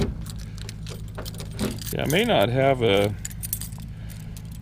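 A bunch of keys for a 1972 Chevrolet C10 jingles and clinks close by, briefly joined by someone speaking and a short electronic warbling tone.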